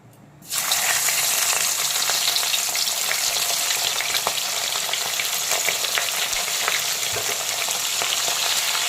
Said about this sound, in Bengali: লবণ আর হলুদ মাখানো চারা ভেটকির পিসগুলোকে আমি তেলের মধ্যে